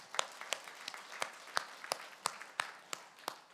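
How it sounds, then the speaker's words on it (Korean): A church congregation applauding, rhythmic unison clapping at a steady beat, moderately loud and heard without talk over it. "하나님께 박수를 올려드리십시다"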